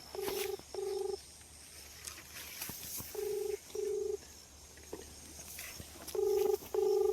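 Telephone keypad tones beep in three quick pairs, each pair of clear electronic dial tones separated by pauses, over a quiet room background.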